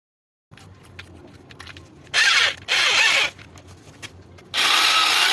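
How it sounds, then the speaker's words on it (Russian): An electric drill enlarges a hole in an oil plug of an engine cylinder block, running in three loud bursts after quieter scraping and handling noises. "Берем следующее сверло по диаметру. Вот отверстие потихонечку увеличивается до нужного диаметра."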